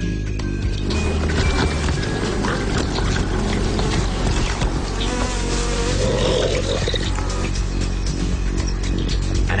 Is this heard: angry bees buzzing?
yes